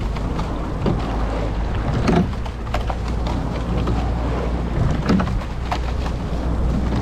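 Oars of a rowing boat crew stroke through the water, with regular splashes and knocks repeating in a steady rhythm over a continuous low rumble of wind and water noise.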